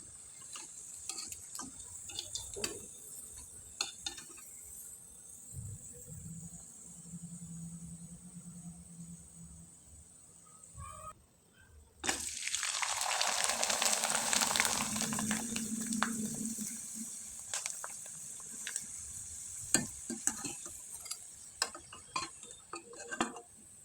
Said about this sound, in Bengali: বেশি সময় যদি তেলে রেখে দেন সেক্ষেত্রে পিঠাটা লালচে হয়ে যাবে।